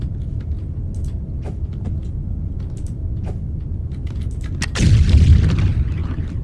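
Explosions blasting terrain in the mining game Foundry: a continuous deep rumbling bed with small clicks, then a heavy loud blast with a crumbling roar that slowly fades, no voices.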